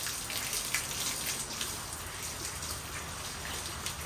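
Steady rain falls outdoors in a dense, continuous patter of drops at moderate loudness, with no voices over it.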